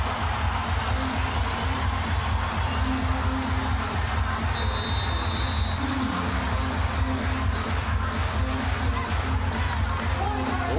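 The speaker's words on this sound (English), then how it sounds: "Listen to this crowd." A crowd at an Iowa vs Maryland women's college basketball game roars in a steady, dense wall of cheering and noise inside the arena, with voices talking over it.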